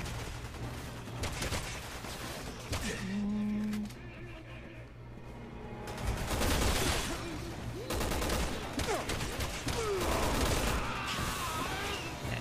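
Gunfire in the Resident Evil 6 demo, Chris's campaign, crackling in loud rapid bursts with short pauses between them, mixed with other combat noise.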